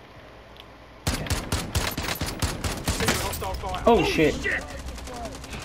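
Rapid automatic gunfire in Call of Duty Warzone erupts suddenly and rattles loud and close in a dense burst, then thins as a voice exclaims over the shots.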